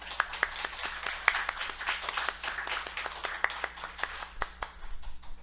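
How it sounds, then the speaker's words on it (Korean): Church congregation clapping for the husbands during a Sunday sermon, a moderate scattered patter of hands with sharp individual claps standing out, steady for several seconds in a reverberant hall. "격려와 위로의 박수 드리도록 하겠습니다."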